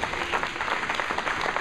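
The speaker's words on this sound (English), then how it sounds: "So why don't y'all give yourself a round of applause." Applause from an audience in a room at a Walk for Education presentation, a steady, dense wash of clapping heard fairly close and alone, without voices.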